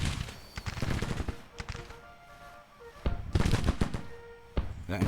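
Cannons of the Williams battery fire in a Civil War strategy game, sharp close reports in clustered bursts followed by crackling musketry, loud and rhythmic with a quieter lull in the middle.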